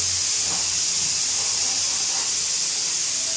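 Dal bubbling on a stovetop, giving off a steady broad steamy hiss that holds constant throughout with no voices, a faint low rumble underneath.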